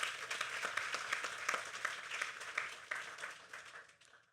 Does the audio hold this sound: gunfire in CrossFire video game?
no